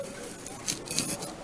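Rain falls in Calderón, Ecuador, as a light, steady patter close by, with a few brighter drops hitting harder surfaces at irregular moments.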